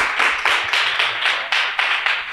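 Applause from a pitch-event audience, with a few close, distinct hand claps in an uneven rhythm running the whole way at a steady loud level.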